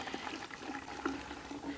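Rust remover liquid being poured full strength from a bottle into a container, a steady watery gurgle and splash running continuously throughout.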